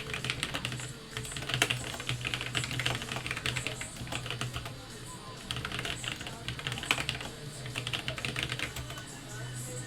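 Rapid clicking of a computer keyboard as code is typed, in bursts of keystrokes with brief pauses, close and moderately loud, with a voice talking over parts of it.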